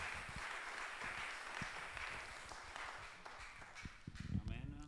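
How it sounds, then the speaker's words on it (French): Church congregation clapping for themselves during a sermon by a bishop, a soft, distant patter of many hands with a voice audible near the end. "And clap the hand for yourself."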